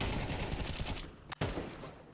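Counter-Strike gunfire sounds as a dense, fast volley that stops suddenly, followed by a single sharp crack and a fading tail, quiet in level and with no talk over it.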